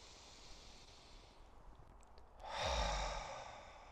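A slow breath drawn in through the nose, then a long, fairly loud exhale out through the mouth during relaxing breathwork, close and alone in a quiet room.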